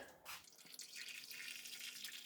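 Cooled boiled kettle water pours into a chicken roasting dish in a steady, splashy stream, close and fairly quiet, with no one talking.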